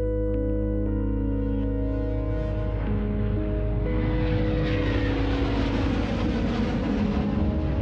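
An airplane in flight produces a steady, loud engine drone and broadband rush that builds and brightens slightly over the clip. No voices are heard.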